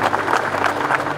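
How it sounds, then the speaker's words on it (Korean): A brief burst of audience applause for a senior comedian, dense clapping that holds at a steady level for about a second. "선배님께 큰 박수 한번 드리는 시간 갖도록 하겠습니다."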